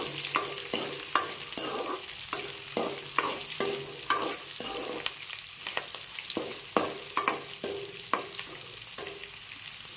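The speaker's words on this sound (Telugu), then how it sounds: "ఇవి బాగా వేగాలి. క్యారెట్, బీట్రూట్ బాగా వేగాలి." Beans, carrot and beetroot fry in a pan for upma under a soft continuous sizzle, with quick rhythmic scraping strokes of a spoon repeating every half second or so, close by and without talk.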